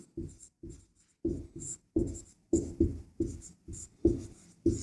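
Pen or chalk writing out a probability fraction during a maths problem, a series of short rhythmic strokes with brief pauses between them, close and alone without talk.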